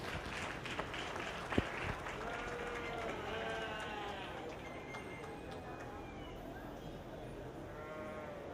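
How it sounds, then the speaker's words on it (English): Applause rolls steadily through a show ring for two young exhibitors at a 4-H/FFA sheep show, with sheep bleating over the clapping. "Let's give those two young gals a big round of applause."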